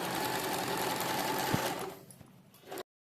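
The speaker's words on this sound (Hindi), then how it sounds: "इस तरह से इसको सीधा सिलते जाना है" Sewing machine sewing a straight seam on a Patiala salwar, a fast continuous mechanical whir heard up close that slows and fades near the end, then cuts to silence.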